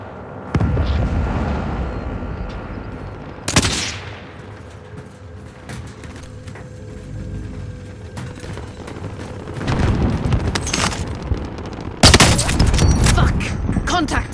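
Automated sentry gun firing in a video game firefight, sustained loud bursts with sharp blasts and heavy booms breaking through, close and chaotic, with voices mixed in.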